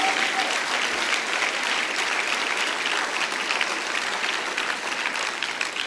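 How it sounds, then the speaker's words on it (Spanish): Sustained applause from a church congregation at a Spanish-language worship service, thick and even at moderate loudness, with no voices rising above it. "Denle un aplauso fuerte a Jesús"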